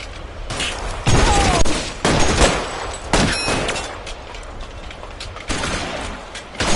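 Bursts of video game gunfire in L.A. Noire, loud and close: repeated volleys of shots and rapid automatic fire breaking out in clusters across the scene, with no talking.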